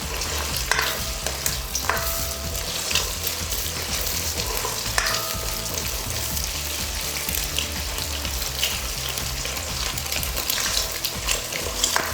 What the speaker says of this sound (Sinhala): ඊට පස්සේ මේ විදිහට තෙල් එක හොඳට රත් වුනහම අපි බිත්තර 3 එකතු කරගමු.